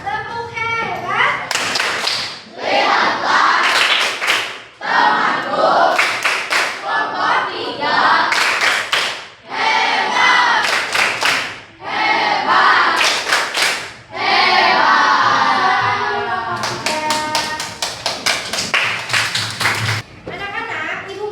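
A sixth-grade class at an elementary school claps a patterned cheer for a classmate, loud rhythmic bursts of group hand claps separated by short pauses, with children chanting and a teacher's voice between rounds.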